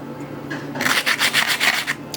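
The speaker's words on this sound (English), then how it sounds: "Now for sanding." Close, brisk rasping strokes of sanding skateboard grip tape, about eight quick back-and-forth rubs in a steady rhythm after a brief quiet start.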